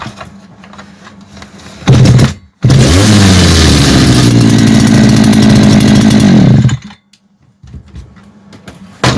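TRESZER TVR8 petrol brush cutter, back from warranty repair, starting with a loud burst, a brief cut, then running steadily at high revs for about four seconds before shutting off to quiet bench noise.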